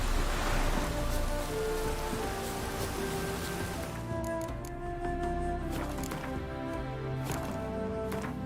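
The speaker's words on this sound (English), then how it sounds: "Looks like rain." Steady rain hiss fills the scene in the video game Witcher 3, dense and broadband, with scattered drips and tones layered over it; no one speaks.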